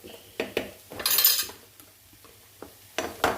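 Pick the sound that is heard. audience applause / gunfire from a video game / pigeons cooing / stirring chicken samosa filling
stirring chicken samosa filling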